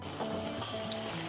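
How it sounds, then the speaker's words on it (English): Tomato sauce coming up to a boil in a pot on the stove, giving a steady, close bubbling sizzle that runs unbroken without any voices. "My tomato sauce, which is going to boil up."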